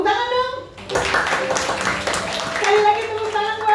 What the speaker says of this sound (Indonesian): Sekali lagi tepuk tangan buat Tuhan.